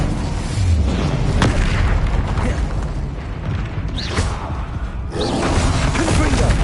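A fire spell going off in Hogwarts Legacy, a dense roaring burst with crackling bursts layered over continuous loud game action, near and forceful, no talking.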